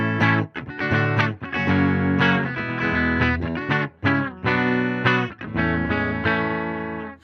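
A Squier Paranormal Super Sonic electric guitar on the neck pickup, played through a Tone Master Super Reverb amp, rings out in driven, distorted chords and riffs with brief pauses between phrases, loud and close.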